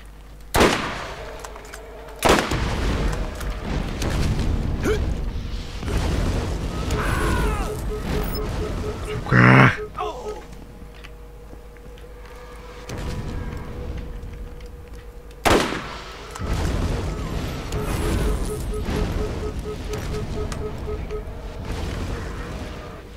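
Several loud, booming explosions from the Borderlands video game go off at intervals, each a sharp burst followed by rumbling gameplay noise, with quieter stretches of engine hum between them.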